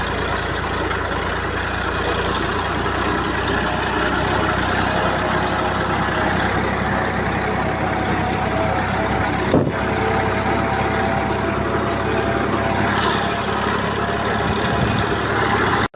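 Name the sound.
tractor engine running in a farm field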